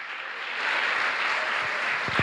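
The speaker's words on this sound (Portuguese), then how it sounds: "Aplauda o Senhor, igreja" A church congregation applauds during a sermon, a steady dense wash of many hands clapping at once, fairly loud and even, with a few low thumps near the end.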